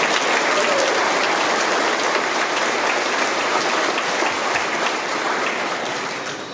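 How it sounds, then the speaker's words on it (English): Graduation ceremony audience giving sustained applause, a loud, dense roar of many clapping hands filling the hall and tapering slightly near the end. "if we could just give a round of applause for all of our donors and sponsors"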